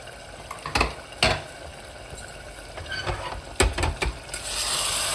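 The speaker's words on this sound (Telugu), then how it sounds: "అడుగంటకుండా బాగా ఇలా కలుపుకోండి. మళ్ళీ మధ్యలో ఇలా కలుపుకుంటూ ఉడికించుకోవాలి." Mutton with tamarind leaves being stirred in an open pot, giving a few scattered scrapes and clinks of a spoon against metal over a soft sizzle of simmering food, no talk.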